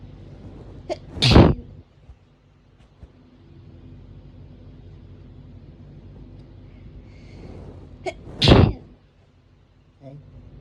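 Two loud, sharp hay fever sneezes burst out a few seconds apart, close to the listener, with low room hum and faint background movement between them.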